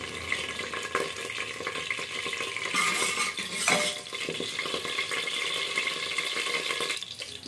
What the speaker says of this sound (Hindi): इसी में मेथी दाना डाल दीजिए, मेथी दाना 1/2 चम्मच डाल दीजिए